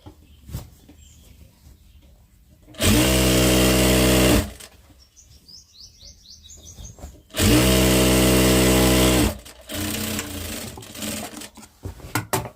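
A sewing machine stitches a saree petticoat in two loud, steady whirring runs of about two seconds each, with quieter handling and fabric rustling between the bursts, all close by.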